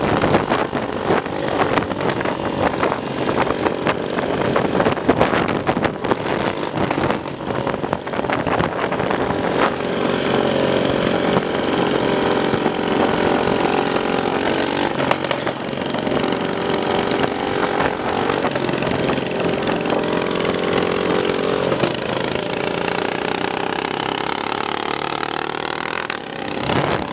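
A motorcycle engine, likely a 230 cc bike, runs loud and close throughout, a rough droning tone that swells and holds as the throttle is worked, with no voices.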